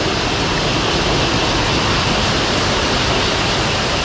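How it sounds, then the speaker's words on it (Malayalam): Steady, loud roar of a rocky forest stream tumbling among boulders beside a small waterfall, a dense continuous rush with no voices. "കാരണം ഭയങ്കര കല്ലുകൂട്ടത്തിൻ്റെയൊക്കെ ഇടയിലാണ് ഈ ഒരു തോട്."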